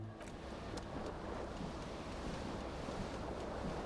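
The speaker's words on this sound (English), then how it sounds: "cool wind gushes in." Cool wind gusts steadily in Disco Elysium, a soft, continuous airy rush with a surf-like wash, faint and unbroken throughout.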